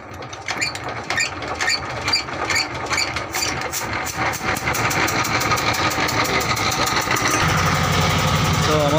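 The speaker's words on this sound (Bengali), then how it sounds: "তো আমাদের বোট কিন্তু ছেড়ে দিয়েছে।" Motor boat engine running on a fishing trip in the Sundarbans, a rapid mechanical chugging that starts clattery and settles into a steady loud drone, with voices talking over it.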